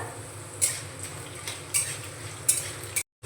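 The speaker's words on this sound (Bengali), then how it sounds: "দিয়ে দেব 4টে চেরা কাঁচা লঙ্কা।" Four slit green chillies go into hot oil already spluttering with mustard seeds and cumin for mango rice: a steady close sizzle with a few sharp metallic clicks from stirring.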